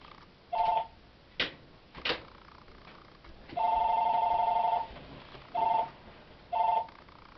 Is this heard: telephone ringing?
yes